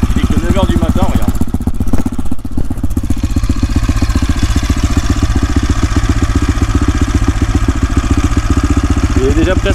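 A motorcycle engine running close and loud at a steady, rapid rhythmic idle-like chug on a hot morning before setting off on a road trip, continuous throughout.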